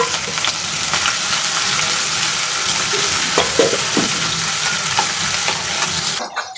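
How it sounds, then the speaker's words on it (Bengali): Onion and chilli hit hot oil in a wok, producing a loud, dense, unbroken sizzle close by with faint stirring knocks, stopping suddenly at the end. "এখন আমি পেঁয়াজ মরিচ দিয়ে দিব।"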